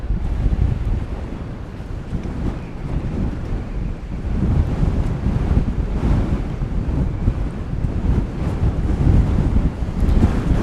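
Strong wind at DFW Airport buffets the microphone in a loud, continuous low roar that surges and eases in gusts, with no talking.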